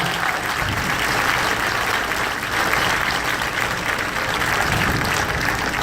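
Loud, sustained applause from a large audience at a farewell party aboard the TCM Classic Cruise, a dense wash of clapping that stays steady and close for the whole stretch with no voices standing out.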